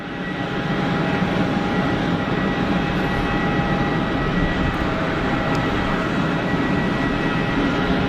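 Airbus A321neo airliner at Geneva Airport, a steady, loud broadband jet roar holding evenly throughout, distant engine rumble without talk.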